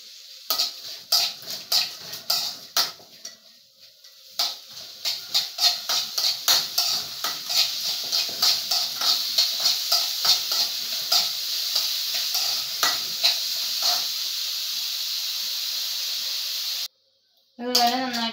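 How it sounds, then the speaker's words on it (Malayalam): Chutney ingredients are stirred in a hot pan, with a spatula scraping in quick rhythmic strokes over a steady sizzle that settles into a continuous hiss, and a brief voice comes in at the very end. "എന്നിട്ട് നന്നായിട്ടൊന്ന് ഇളക്കി കൊടുക്കാം."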